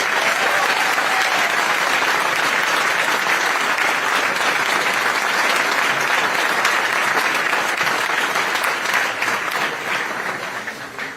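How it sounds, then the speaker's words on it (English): Loud, sustained audience applause fills the room at a university event introducing a new men's basketball head coach, steady throughout and tapering slightly at the end. "Please give a round of applause for our chancellor, Dr. Kevin Howell."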